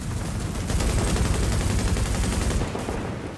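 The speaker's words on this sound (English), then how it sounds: "My turret will hit him" Sustained automatic turret gunfire in Tom Clancy's The Division, a dense, loud, continuous rattle of rapid shots that runs for several seconds, then eases slightly at the end.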